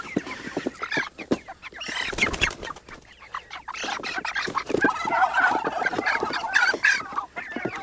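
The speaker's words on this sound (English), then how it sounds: "Turkeys are getting excited." Several turkeys gobble and cluck in bursts, close by, their calls overlapping and rising in excitement.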